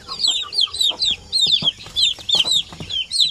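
Native chicks of the Basilan and Zamboanga breeds cheep and peep in a rapid, overlapping chorus close by, with soft clucking and small scuffling noises underneath.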